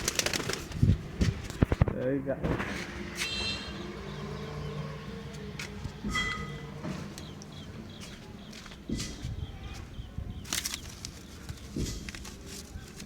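Pigeons on a home rooftop flutter and coo close by, with scattered wing flaps and shuffling movement, while a person talks over them.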